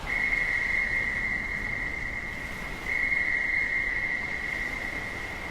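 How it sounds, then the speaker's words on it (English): A loud, steady whistle from the sinking Titanic, a single sustained high tone that holds for the whole stretch with a slight swell partway, set against a dense background wash and no talk. "passengers and crew began to hear a loud whistle"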